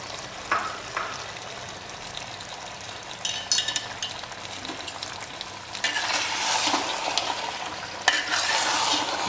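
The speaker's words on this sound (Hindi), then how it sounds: "यह जो हमारा मीट का पानी है इसे हल्का सा डाल देते हैं।" White mutton korma frying in a pot as meat stock is poured in and stirred, a steady sizzle broken by scraping spoon strokes that grows louder and more bubbly in the second half.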